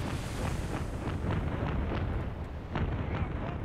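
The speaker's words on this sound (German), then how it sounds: "ich höre aber einige Schüsse" Gunfire and distant explosions in the World War II strategy game Company of Heroes 3 form a dense, rumbling battlefield din of repeated bursts and cracks.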